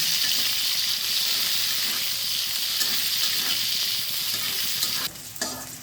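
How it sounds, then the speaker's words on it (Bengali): Chopped onions with nigella seeds frying in a little oil, a continuous close sizzle and crackle with stirring scrapes, dropping abruptly near the end as the pan is moved or the heat eases. "আর একটু সামান্য তেল কালো জিরে পেঁয়াজ কুচি পেঁয়াজটা একটু হালকা ব্রাউন করে"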